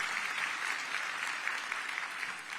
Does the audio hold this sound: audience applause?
yes